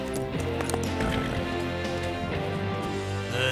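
Cartoon horse hooves clip-clopping in a steady rhythm, mixed under music and background sound effects in a Lucky Luke animated scene.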